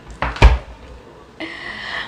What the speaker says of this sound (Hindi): मैं दरवाज़ा बंद करती हूँ, देखो थोड़ा सा आवाज़ कम आती है।